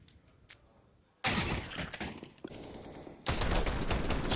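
Rapid automatic gunfire in a Counter-Strike match, loud close bursts of shots that start abruptly after a quieter stretch and then return in a second sustained volley.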